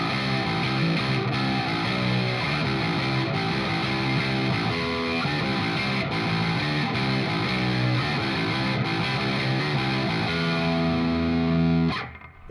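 A Squier Classic Vibe Bass VI plays low single notes on its neck pickup through distortion and effects, a thick, continuous line that stops abruptly near the end, with no voices.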